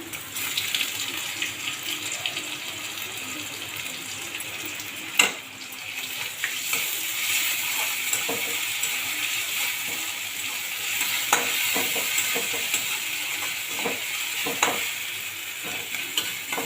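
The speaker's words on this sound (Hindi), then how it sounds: "अदा लसुन भी भाजी हो गलान" Ginger garlic paste frying with golden onions in a pan for dal fry, a steady close sizzle with stirring scrapes and a few sharp clinks throughout.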